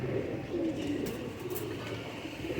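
Pet pigeons coo in low, rounded phrases that repeat steadily through the moment, close and clear over a soft, constant background hum.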